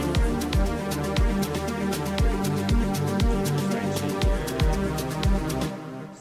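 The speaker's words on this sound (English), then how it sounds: "gotta put a preset on this kick so it sounds a little bit better" A compressed, EQ-boosted electronic kick drum thumps in a steady four-on-the-floor pulse under bright hi-hat ticks and a synth bed. The level is moderate and the beat stops abruptly at the end.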